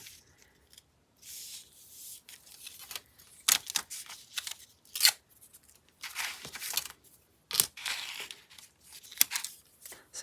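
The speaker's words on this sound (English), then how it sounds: "My never-ending supply of bits of copy paper from printing labels." Scraps of leftover copy paper from label printing are handled and crumpled, giving bursts of crinkling and rustling with sharp crackles, separated by brief quiet gaps, close up and with no talking.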